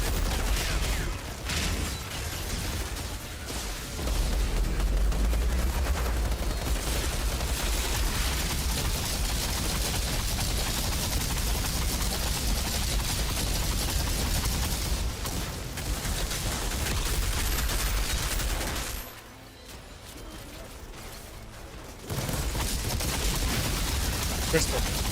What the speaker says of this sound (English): I'm a firing my fucking laser.